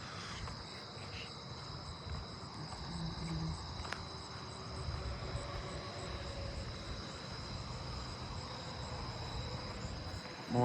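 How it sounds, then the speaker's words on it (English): Steady, dense insect trilling from ground crickets fills the background, with a continuous hum of distant night ambience and no voices. "More southern ground crickets."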